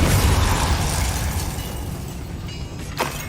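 A Confringo blasting spell detonates in Hogwarts Legacy, a dense roaring explosion that starts loud and slowly fades, capped by a short sharp crack near the end.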